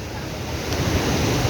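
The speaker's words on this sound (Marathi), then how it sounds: "वॉटरफॉल धबधबा एकच" Broadband rushing water at a waterfall at Bhandardara, a steady unbroken roar filling the whole short span, fairly loud, with no voices.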